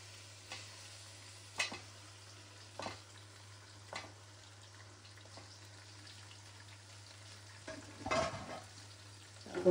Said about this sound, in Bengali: এখন আমি মাংসগুলা দিয়ে দিব একে একে।